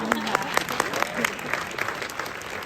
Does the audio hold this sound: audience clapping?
yes